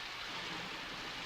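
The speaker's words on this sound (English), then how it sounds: "As always, I do love a good rainstorm." Steady rainstorm from a Moomin cartoon episode, a brief, faint, even hiss of falling rain with no other sounds.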